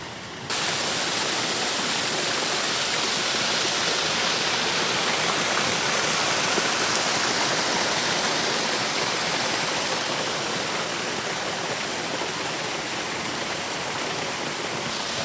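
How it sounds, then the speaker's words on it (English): A waterfall on the Blue Wash Trail in Cave Creek, Arizona roars steadily and loudly close by, a dense unbroken rush of falling water that continues throughout, with no voices. "There's the beginning of the waterfall."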